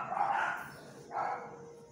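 Neighbours' dogs bark in two short bursts, somewhat distant and moderately quiet, with a brief pause between them and no talking.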